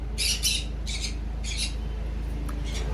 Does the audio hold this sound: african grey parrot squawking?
yes